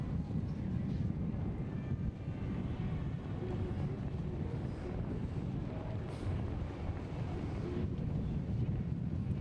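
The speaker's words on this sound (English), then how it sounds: "Big, strong wind gusts are now going to face these women in block headwind conditions." Steady, roaring headwind buffets the microphone throughout at a collegiate cycling criterium in Albuquerque, a dense low rumble with gusty surges and no clear pauses.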